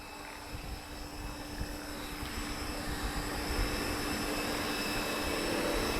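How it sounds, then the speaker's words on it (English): Aircraft engines drone steadily at an airshow in Portugal, a broad continuous roar that slowly swells louder over several seconds as planes pass nearby, with no talking. "currently aeroplanes everywhere"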